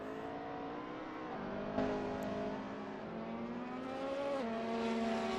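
Race car engines in a racing video game, GT500 cars at Suzuka, whine loudly and steadily, the pitch climbing and then dropping sharply at each gear change, with no voices.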